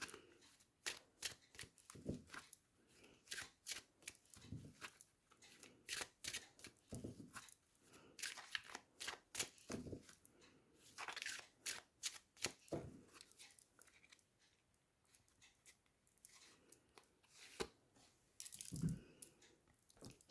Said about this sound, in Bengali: আমি রোম্যান্স এঞ্জেল ডেক থেকে আর একটি কার্ড নেব